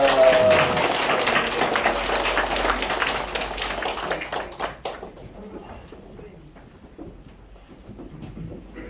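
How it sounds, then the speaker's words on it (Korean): A church congregation bursts into loud applause after a benediction, dense clapping that thins out and fades midway, leaving scattered claps and quiet room noise. "크게 박수하겠습니다."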